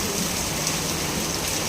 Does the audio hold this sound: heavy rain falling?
yes